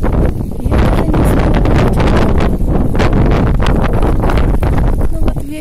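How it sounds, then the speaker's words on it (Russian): Strong wind gusting along a seaside embankment, loud, steady buffeting and rushing across the whole span with rustling, roaring against the microphone. "Ну вот ветер."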